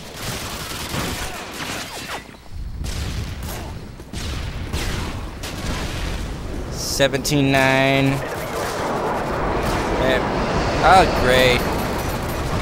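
A Semtex grenade goes off among continuous gunfire in Call of Duty Modern Warfare 2 multiplayer on the Storm map in Domination mode, a loud rumbling blast within dense firing, with a voice talking over the action.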